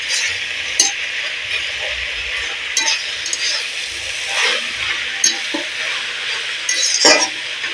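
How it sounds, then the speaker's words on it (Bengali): Drumstick leaves (sajne shak) sizzle steadily in a pan while being stirred, with a metal spatula clinking and scraping against the pan at irregular intervals, close and clear with no talk. "শাক এইভাবে নাড়তে হবে নাহলে শাকটা পুরো জড়িয়ে যাবে"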